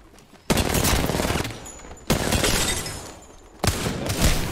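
Gunfire in Apex Legends: three loud bursts of rapid shots at roughly even intervals, each decaying into a rumbling tail, close and dominant, with no talking.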